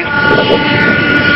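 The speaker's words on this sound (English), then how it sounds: "Nice, gentle, smooth takeoff." A large-scale ducted fan model Tupolev Tu-22M Backfire jet taking off, a loud steady high-pitched jet whine with a sustained roar, continuous and close.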